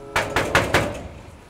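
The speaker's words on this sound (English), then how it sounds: "Knock the gate." Four firm, evenly spaced knocks strike a gate, close and loud, followed by a short fading ring and no talking.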